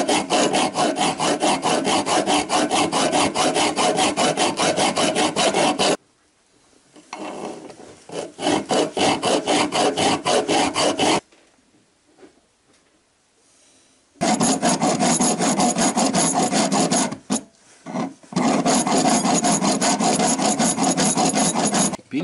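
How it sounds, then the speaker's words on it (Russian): A hand file rasps across the metal of a UAZ alternator mount in loud, rapid, rhythmic strokes close to the microphone. The filing stops for a few seconds twice, and there is no speech. "Сейчас буду сюда напильником пропиливать"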